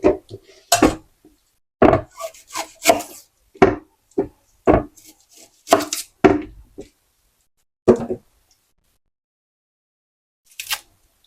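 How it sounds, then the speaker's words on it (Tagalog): A knife chops an onion on a board in a series of sharp, uneven taps, close by, then pauses before a final few cuts. "Ihiwain ko na rin po yung sibuyas."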